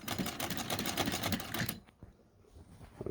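Vintage Singer model 66 sewing machine, hand-crank converted, stitching through four layers of denim: a fast, steady mechanical clatter for about two seconds that stops abruptly, leaving quiet room tone with faint handling noises.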